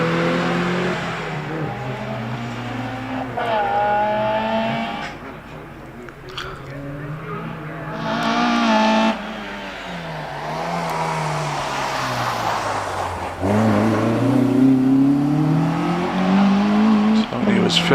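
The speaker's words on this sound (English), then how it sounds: "And about to get off the line in the in the Peugeot 205 GTI, Tony Feekings, who goes away now." A Peugeot 205 GTI rally car launches at a hillclimb, its engine revving hard and rising through gears, loud and close, with a commentator talking over it throughout.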